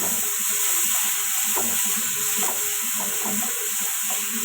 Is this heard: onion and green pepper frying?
yes